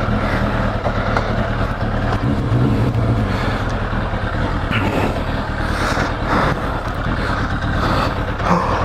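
A 1989 Yamaha FZR 1000 EXUP motorcycle engine runs with a steady, continuous drone at close range. The level stays constant throughout, with no talk.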